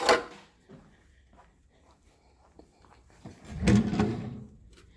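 Plastic storage drawers are handled and fitted during middle school classroom setup, giving light scrapes and taps followed by a louder clattering slide near the end.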